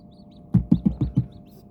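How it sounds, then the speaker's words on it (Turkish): Five soft tapping pecks in quick succession, like a chick knocking at its shell, with faint high peeps around them. "Bak başka bir civciv yumurtayı kırdı."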